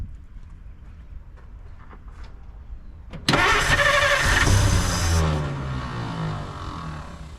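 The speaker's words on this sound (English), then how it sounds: "give it a little blast and crank it over and see what happens" A 1950 Dodge Meadowbrook engine cranks over and roars loudly to life after a quiet lead-in, then settles into a steady, rumbling run close by.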